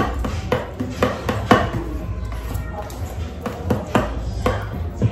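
A homemade rice face cream with glycerin and rose petals is mixed in a bowl, giving a series of sharp taps and clinks of a utensil against the container in an uneven rhythm.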